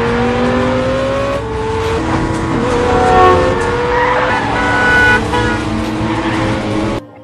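A car flees a pursuer during a film chase scene, tires squealing and skidding in long sliding wails over a roaring engine. The sound is loud and continuous for about seven seconds, then cuts off abruptly.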